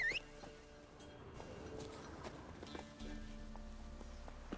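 Roach the horse's hooves clopping in The Witcher 3, a steady run of soft hoofbeats at moderate distance over game ambience and faint tonal music.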